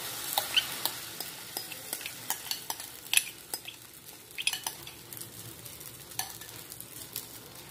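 Oats omelette mixture poured into a hot pan sizzles quietly, with scattered soft crackles and light scraping ticks over a low, steady fry.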